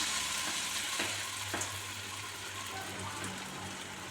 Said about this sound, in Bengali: এবার মটর ডাল বাটাটা তেলে আস্তে আস্তে ছেড়ে দেব।